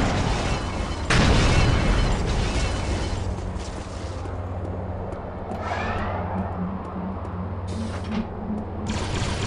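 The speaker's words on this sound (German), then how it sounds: "jetzt explodiert's da oben" A big explosion booms in the Star Wars: Jedi Academy video game, a loud burst near the start that decays into a long rumbling roar with debris and game effects, and no talking.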